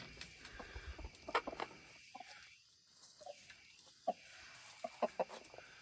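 An older hen clucks softly in short, scattered bursts nearby among young turkey poults, with quiet rustling and faint farmyard ambience.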